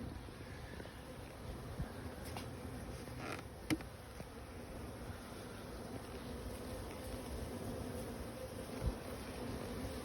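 Swarm of Russian honey bees buzzing steadily around deep and medium hive boxes outdoors, a dense continuous drone with a couple of brief clicks, no talking.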